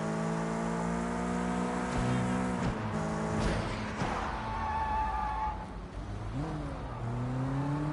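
A car driving through a night market in the Sleeping Dogs video game, its engine droning and shifting pitch steadily throughout, with a brief rising rev near the end and no talking.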